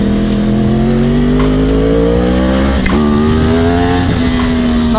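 Loud, close Yamaha R1 2011 motorcycle engine revving hard under acceleration with the front wheel lifting, a steady rising whine broken by two quick gear shifts around the third and fourth seconds.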